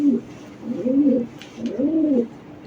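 Racer pigeons coo in two drawn-out, rising-and-falling phrases, close and clear with a short pause between them and no voices over them.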